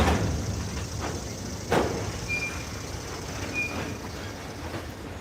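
A westbound New York Central train approaches from far down the line at DeButts, a low distant rumble with faint wheel squeals and a sharp knock partway through, no voices.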